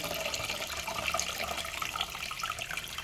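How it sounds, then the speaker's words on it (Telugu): Tamarind water being poured into boiled horse gram water, a steady splashing, trickling stream that runs continuously and fairly close with no talk over it. "ఈ వాటర్ని మనం ఇప్పుడు దీంట్లో పోసేసుకోవాలి"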